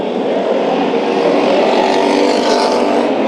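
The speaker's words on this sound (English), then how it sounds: "This is dirt track racing at its finest, and this is what you expect when you see hobby stocks anywhere" Hobby stock race cars roaring around the Bakersfield Speedway dirt track, a steady loud blend of engines with a rising whine from a passing car.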